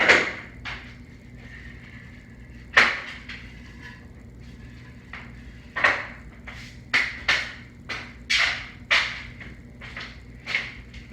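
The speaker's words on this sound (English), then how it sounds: "Let's see if we can glue and screw them together with these." Screws driven with a power driver into glued wooden rails, a string of short separate whirring bursts at irregular intervals, each one close and sharp, with quiet gaps between them and no talk.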